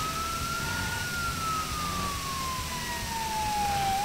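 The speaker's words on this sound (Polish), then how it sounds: "Mamy tutaj już wóz strażacki i prawdopodobnie jego to właśnie będę tutaj odblokowywał." A fire truck siren in the Driver San Francisco video game wails in one long steady sweep that slowly drops in pitch, over constant engine and road rumble.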